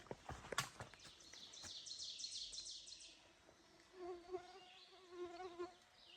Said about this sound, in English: The mosquitoes like it down here in the hollows.